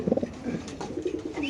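Pigeons, racer birds, coo in short soft bursts at a market seller's, several gentle throaty calls close by amid faint background noise.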